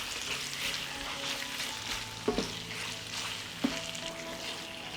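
Chicken livers with onion and garlic frying in butter over lower heat, a steady close sizzle with two brief knocks of a stirring utensil against the pan.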